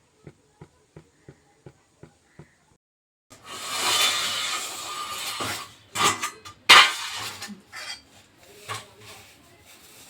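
Dishes clink and scrape as rice is served, a run of evenly spaced light taps followed by sustained rubbing, scraping and clattering at close range.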